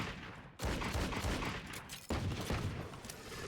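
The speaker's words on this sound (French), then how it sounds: "Je lui ai mis une balle corps." Gunfire bursts in a first-person shooter game, two sharp loud volleys a second and a half apart, each followed by sustained rattling and echo, with no talk over it.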